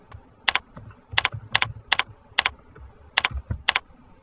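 Close, clicky keystrokes on a computer keyboard come in short irregular bursts of two or three taps, ending with a firmer press like an enter key, with no voices.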